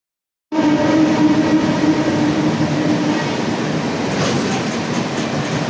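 Train 15231 from Barauni to Gondia rumbles steadily through a ghat section, starting abruptly and holding a loud, continuous roar with faint rail clatter throughout.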